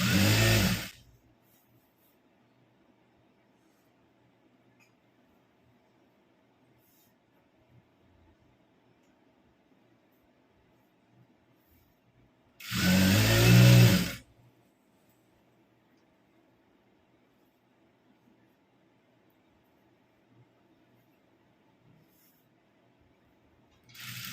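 Sewing machine stitching a pant seam runs in two short, loud bursts of about a second each, the second near the middle, separated by long quiet stretches.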